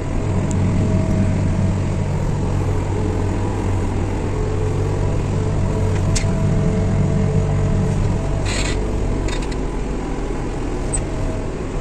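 A backhoe loader travelling with a punctured front tyre gives off a loud, steady engine drone and broad road rumble that holds unbroken throughout, with a few faint clanks on top and no voices.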